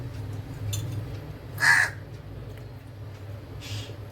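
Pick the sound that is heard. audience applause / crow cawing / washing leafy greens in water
crow cawing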